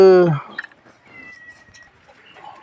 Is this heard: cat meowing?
yes